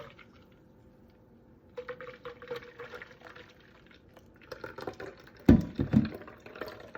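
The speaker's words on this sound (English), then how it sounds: "And we'll pour some in." Quiet at first, then liquid trickles and splashes as watermelon juice is poured slowly through a strainer, growing louder with a small splash near the end.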